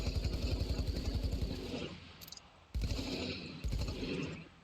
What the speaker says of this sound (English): It can do burst fire, or it can do automatic.